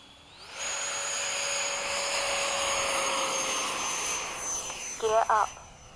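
A high, steady whine of the 90mm FMS ducted fan on a Freewing F-104 model jet spools up and holds as it takes off, with brief chatter near the end.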